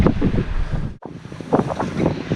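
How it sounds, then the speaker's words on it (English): Ocean waves wash and surge around a sailboat at sea while strong wind buffets the microphone, a loud continuous roar with a brief lull before rising again. "The waves are getting bigger again."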